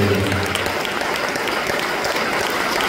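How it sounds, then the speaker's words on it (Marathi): A church congregation claps together to praise God, a dense, loud, steady wash of applause that fills the short stretch without pause. "आपण टाळ्या वाजवत देवाचे गौरव करूया"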